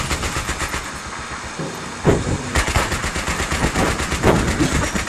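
Battlefield 3 gameplay with loud, rapid bursts of automatic gunfire over rumbling engine noise, close and continuous, with no talk.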